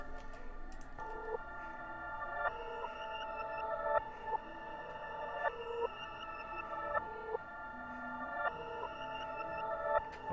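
Reversed Citrus synth melody from an FL Studio dark trap beat, with eerie tonal notes swelling backward into abrupt cutoffs in a steady looping rhythm, heard alone and fairly quiet.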